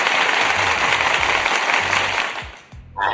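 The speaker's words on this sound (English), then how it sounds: "So I have to give some applause to Stacy." Studio applause and clapping from an audience, a steady dense patter that carries on for about two and a half seconds before briefly dipping and then picking up again near the end.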